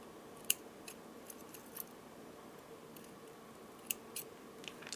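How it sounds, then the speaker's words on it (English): Scissors snipping necklace thread above a knot, a few faint, sharp clicks scattered over a quiet background. "Now let's cut the thread"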